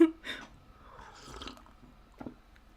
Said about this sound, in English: Sorry if I'm slurping my coffee too loud.